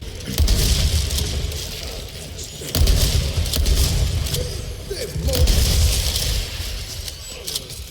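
Shotgun blasts in the survival horror game Resident Evil 4 Remake, three heavy booming shots spaced a few seconds apart over game ambience, with someone talking throughout.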